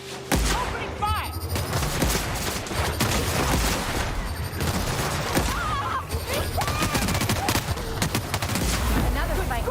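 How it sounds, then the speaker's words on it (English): Heavy, sustained gunfire in a firefight in The Outer Worlds, with dense rapid shots and crashes running almost without pause, loud and close, blended with other combat noise. "Opening fire!"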